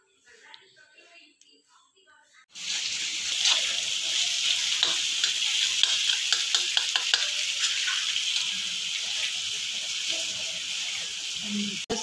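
Garlic, onion, tomato, chilli powder, salt, turmeric and goda masala start frying for village-style egg bhurji, with a sudden loud sizzle after a quiet moment that continues steadily, close, with stirring clinks and occasional faint talk.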